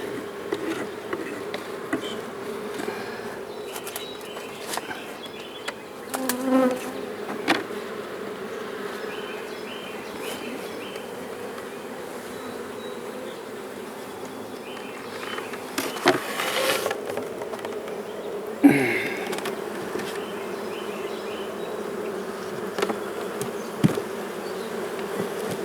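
Honey bees hum continuously as nucs are prepared, a dense near drone with scattered bumps, knocks and scraping of hive frames and boxes.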